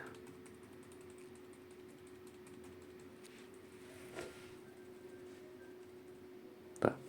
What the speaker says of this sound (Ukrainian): Клікаємо Delete